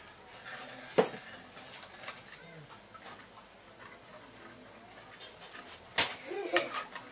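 Spoon stirring sweet and sour sauce in a pan for squid balls and egg, with two sharp metallic clinks against the pan and soft scraping in between, quiet and close.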